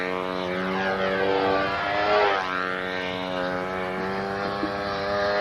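Radio-controlled model P-51 airplane with a four-stroke engine flying overhead, a steady harmonic engine drone that swells and shifts pitch as it passes, continuous and fairly loud with no talk.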